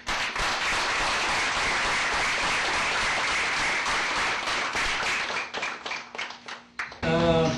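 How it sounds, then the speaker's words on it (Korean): Audience applause for award winners at a literary awards ceremony, dense sustained clapping from a crowd that thins into scattered claps near the end before a voice begins to speak. "다시 한번 수상자들에게 뜨거운 박수를 주십시오."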